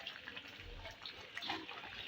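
Water poured into a pot of cooking masar dal, a soft steady splashing trickle, quiet and close, with no talking over it.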